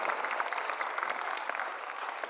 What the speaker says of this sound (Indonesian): berikan tepuk tangan kita untuk Nusantara